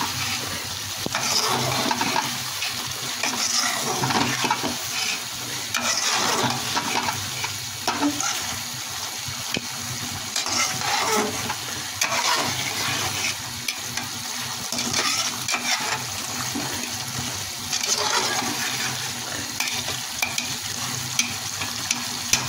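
Pieces of rui fish fry in a hot pan, producing a dense, continuous crackling sizzle that stays loud and close throughout, with fluctuating bursts of spattering and no voices.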